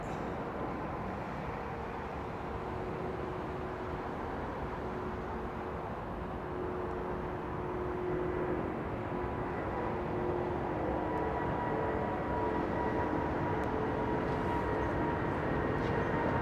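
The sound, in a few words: Finnair airliner taking off at Heathrow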